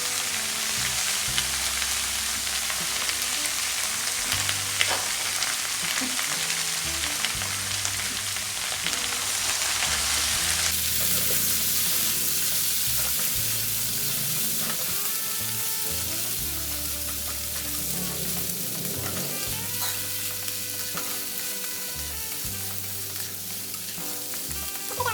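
Potato and brinjal sautéed in a pan, a long steady frying sizzle with repeated stirring scrapes and knocks throughout.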